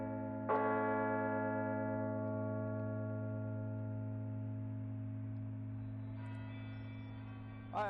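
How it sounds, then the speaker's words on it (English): A large carillon church bell strikes once and hums with a long, slowly fading ring; near the end another bell begins to sound. "the beautiful sounds of the soothing church bells"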